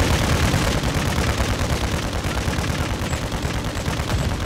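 Rapid automatic gunfire from a vehicle in a video game keeps up a dense, loud, continuous burst of shots with no pauses.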